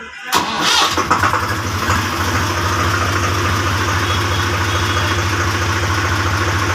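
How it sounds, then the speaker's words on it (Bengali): A Swaraj 834 XM tractor engine with 6,417 hours cranks briefly, catches with a loud burst, then settles into a steady, close, rhythmic diesel idle. "তো গাড়িটি আমি আপনাদেরকে একটু স্টার্ট করে দেখাই"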